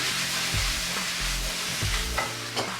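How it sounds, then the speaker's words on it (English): Steady loud sizzling of vegetables stir-frying for chicken noodles in a hot wok, with occasional scraping and stirring clatter, no voices. "While my vegetables are stir frying"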